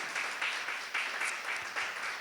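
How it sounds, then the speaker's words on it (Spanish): A church congregation at a Spanish-language sermon gives a round of applause, steady dense clapping with rhythmic pulses, moderately loud and without speech over it. "Dele un aplauso, pues."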